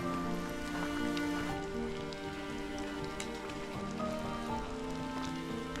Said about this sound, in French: Il commence à pleuvoir. Là, c'est que des petites gouttes, mais ça risque peut-être de s'intensifier.